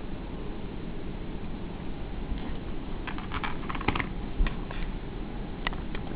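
Clicky typing on a Lenovo ThinkPad laptop keyboard, a T60 or T61, with scattered keystrokes over a constant low hum and hiss; the taps are faint, uneven and irregularly spaced.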